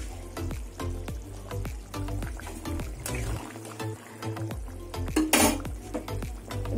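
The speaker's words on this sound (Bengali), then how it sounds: "এবার আমি পটল ভাজাগুলো দিয়ে দেবো।" Fried pointed gourd tipped into a simmering fish curry with pointed gourd and potato, bringing a busy clatter of a spoon against the pot, stirring and light sizzling throughout, with a brighter splash near the end.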